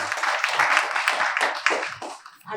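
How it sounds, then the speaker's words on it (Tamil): An audience claps hands at a Tamil Christian sermon, producing a dense, sustained burst of applause that continues for several seconds before thinning out at the end. "கைத்தட்டுங்க."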